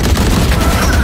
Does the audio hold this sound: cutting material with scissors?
no